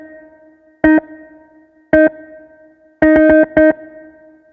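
Dry jazz sample in FL Studio, heard without its chorus, compressor or EQ: short, clean tonal stabs, two single hits and then a quick run of four, each clear and separate against near silence.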